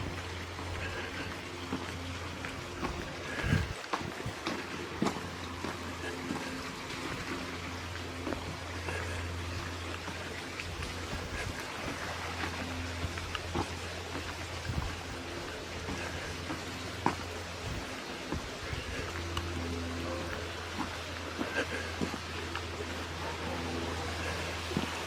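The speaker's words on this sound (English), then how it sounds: "You see the brook, hear the sounds." Brook flowing through Bluebell Wood near Crewe, a steady broadband wash of running water with a low hum beneath, continuous and fairly faint throughout.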